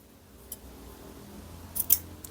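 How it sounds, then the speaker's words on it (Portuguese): Scissors snip fabric diagonally at a corner of a children's long-sleeve pajama piece during sewing, a few faint, close crisp cuts at the end of a quiet stretch. "aqui nessa pontinha, eu vou cortar um pouquinho em diagonal para facilitar a dobra"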